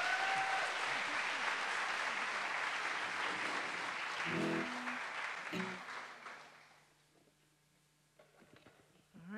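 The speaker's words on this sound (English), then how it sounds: "everybody clap for them" Audience applause at a blues concert, a steady dense roar of clapping for several seconds that fades out, with a voice briefly heard and faint stray sounds as it dies down.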